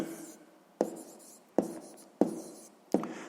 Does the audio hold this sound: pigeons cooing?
no